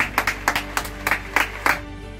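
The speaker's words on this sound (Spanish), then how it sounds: "¡Este aplauso es para vosotros!" A handful of sharp claps in quick, slightly irregular succession, brief and fairly close, with faint background hum, applause for priests.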